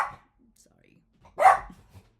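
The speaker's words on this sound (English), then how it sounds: "Excuse my dog." A pet dog gives a single sharp bark at people crossing the street, loud and close, after a brief earlier yelp and quiet.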